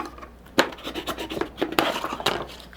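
Trimming a paper card gimmick for a gaffed card box, close-up scratchy cutting and rubbing with several sharper snips and scrapes, brief and fairly quiet, no talking.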